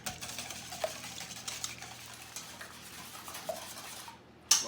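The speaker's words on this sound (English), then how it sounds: "Give them a good whisk," Eggs beaten with milk, sweet smoked paprika, salt and pepper make quiet, rapid scraping and tapping against a bowl for several seconds, and a brief sharper clink comes at the end.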